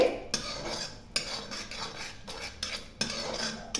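A spoon mixes baby corn with salt and masala in a bowl, giving repeated clinks and scrapes in an irregular rhythm. The sounds are close and moderately loud, with no talking.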